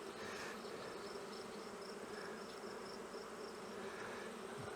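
A dense swarm of honey bees hums steadily around an open nuc hive, a continuous close buzzing with no breaks and no voices.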